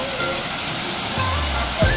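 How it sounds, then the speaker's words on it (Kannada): Adyar Falls near Mangalore pours through forest as a steady, full roar of falling water that fills the whole stretch, with a low rumble swelling briefly near the end. "ಪ್ರಕೃತಿಯ ಮಧ್ಯದಲ್ಲಿ ಈ ರೀತಿ ಕಾಡಿನ ಮಧ್ಯೆ ನೀರು ಬರ್ತಾ ಇರುತ್ತೆ ಮೇಲ್ಗಡೆಯಿಂದ"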